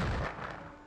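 A thrown grenade explodes in the video game The Thing, one short muffled blast with a brief rumbling decay, heard alone.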